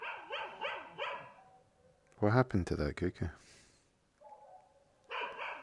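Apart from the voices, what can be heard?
dog barking in the video game The Chantry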